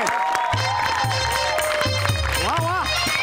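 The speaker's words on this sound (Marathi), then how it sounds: "एकदा जोरदार टाळ्या त्यांच्यासाठी झाल्या पाहिजे" Applause and cheering from a studio audience at a Marathi comedy show, a steady burst of clapping with crowd noise under a loud musical sting throughout.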